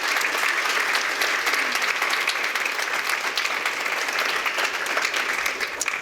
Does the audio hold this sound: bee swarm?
no